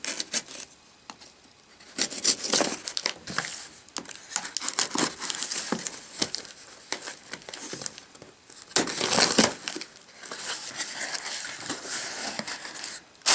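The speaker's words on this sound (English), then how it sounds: "Got my trusty cutter here, and let's get this thing open." A cutter slices open the packaging of a Google Nexus 7 tablet box, giving close, irregular scraping, crinkling and tearing bursts of plastic and cardboard with brief pauses between them.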